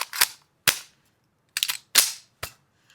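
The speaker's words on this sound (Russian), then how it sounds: "Сейчас мы постреляем с легендарного пистолета Лебедева." Five sharp pistol shots from a Lebedev pistol at an indoor shooting range, loud and close, spaced irregularly about half a second apart with short decaying tails.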